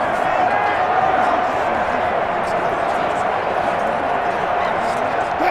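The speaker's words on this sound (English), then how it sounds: "That just means this crowd's going to get even louder" Dense stadium crowd roar in Madden NFL 21 during a Seattle Seahawks versus Chicago Bears game, loud and steady throughout with a constant wash of noise and scattered shouts.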